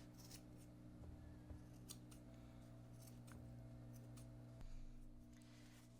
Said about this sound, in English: this is where we're going to grab our scissors and we are going to cut the bottom of this